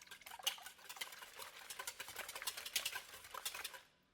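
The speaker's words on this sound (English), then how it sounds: "I'm going to break apart the eggs and give this a really good mix" Eggs being whisked with salt and cracked black pepper in a bowl for a breakfast strata, a quick, steady scraping and tapping patter that runs close and moderately loud for about four seconds before stopping.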